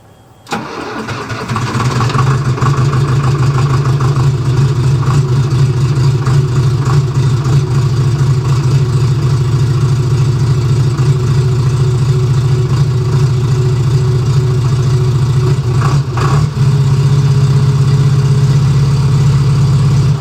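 A backhoe's engine cranks over and catches on a cold start, then settles into a steady, loud, close-up idle with a deep rumble that holds for the rest of the stretch.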